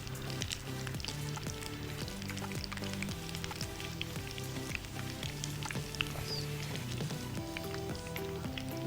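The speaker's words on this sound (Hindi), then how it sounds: "नॉर्मल आंच में इसको आपने फ्राई करना है" Spring rolls frying in oil over normal heat, a steady dense sizzle running throughout at even loudness, with a repeating rhythmic pattern beneath, no talk.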